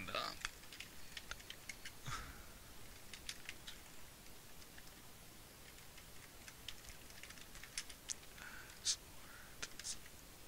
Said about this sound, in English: yes, I am being silent because I'm typing.